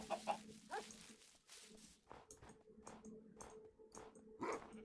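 Wolves in the video game Minecraft give a quick series of short, clipped barks and yips, about a dozen in rapid succession, faint and close together with small whimpering tones between them.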